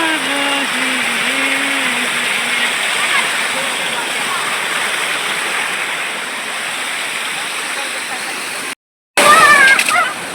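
Water rushes through a jungle valley in a steady, loud, broadband roar, close and continuous, with a voice talking over it early on and a brief dropout near the end.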